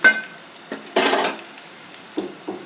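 Mutton masala fried with mint and coriander in a pan: a few short spoon scrapes and clinks against the metal over a soft sizzle, with one louder stir near the middle.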